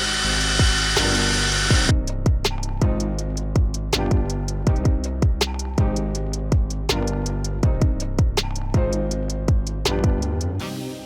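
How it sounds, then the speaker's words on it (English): A power drill whirs in repeated short bursts, each winding down with a falling pitch, with sharp clicks and rattling between runs, drilling gauge holes in a Chevrolet S10. "and then drill out the holes for the gauges."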